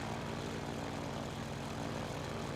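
A propeller airplane engine drones steadily in a flight simulator game, flying up the coast toward Virginia Beach; a continuous, even hum with no breaks or talk.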